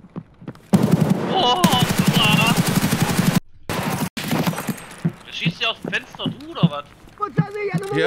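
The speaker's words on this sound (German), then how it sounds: "Irgendwer schießt auf ihn." Automatic gunfire bursts in Escape From Tarkov on the Reserve map, loud rapid volleys with a brief gap, followed by scattered shots and movement while players talk excitedly over it.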